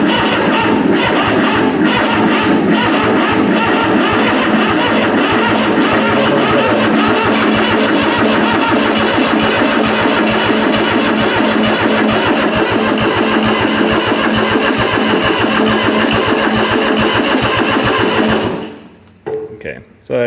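Kubota B7100 diesel tractor engine fired up and left idling, a loud, close, steady clattering diesel rumble that runs evenly for most of the clip, then cuts off abruptly near the end, with a voice speaking over it.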